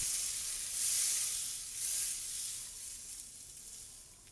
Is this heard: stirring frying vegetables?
yes